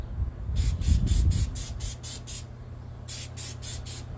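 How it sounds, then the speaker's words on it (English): Spray bottle misting a show cow's hair during fitting, a series of about eight quick hissing bursts, then a pause and four more, fairly close and clear over a low background rumble. "And then you're going to spray that again."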